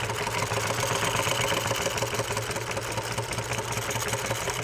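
A sewing machine runs a continuous seam on fabric, its steady mechanical whir and rapid needle clatter close and even throughout, with no voice.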